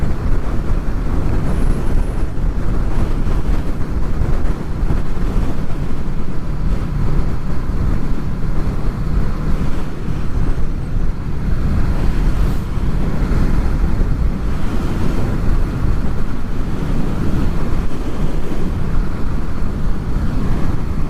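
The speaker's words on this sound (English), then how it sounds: "Wow, that's a strong wind." Strong wind roars and buffets continuously around a rider on a Honda VFR800 motorcycle in wet weather, a loud, dense rumble mixed with engine and road noise, with no pauses.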